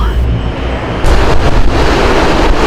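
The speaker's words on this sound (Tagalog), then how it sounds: "Sinundan namin ang marahang ragasan ng tubig hanggang marating namin ito." Gently rushing water of a stream, a dense, steady broadband wash close to the microphone with some wind buffeting.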